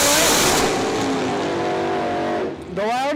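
A loud drag racing car screams past at full acceleration, its roaring engine whine sweeping down in pitch for about two and a half seconds, then a second rising rev takes over while an announcer talks over it.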